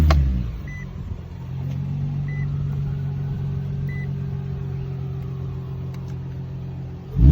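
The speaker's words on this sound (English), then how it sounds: "And I'm gonna turn on the car." An Infiniti G35 cranks briefly and catches, then settles into a smooth, steady idle with a low, even rumble close by before a short burst at the end; no one speaks.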